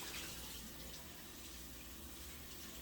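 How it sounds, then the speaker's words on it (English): Steady running tap water rinsing a lamb steak in a sink, a soft continuous splashing hiss at low level with no talking. "I'm gonna go ahead and rinse it here really well"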